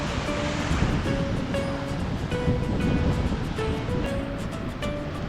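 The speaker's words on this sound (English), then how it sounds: "Today the water is rising and the waves are big." Big ocean waves roll and crash continuously at Batu Bolong beach in Bali, a loud, dense surf roar with wind, and faint tonal sounds drifting in and out over it.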